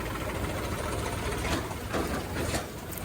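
A Hindustan tractor engine works hard under full load in the field with a steady, dense rumble and a few louder surges, running continuously with no voices.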